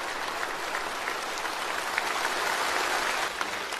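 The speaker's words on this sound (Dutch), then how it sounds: "eer hun grote leider binnenkomt, Xi Jinping. Door de muziek en het lange, harde applaus van de politici zou je bijna vergeten dat China flinke problemen heeft." Politicians at the Chinese Communist Party congress in a large hall give long, sustained applause that forms an even wash of clapping, rolling on without pause.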